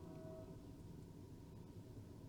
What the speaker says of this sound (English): You can probably hear that train in the background.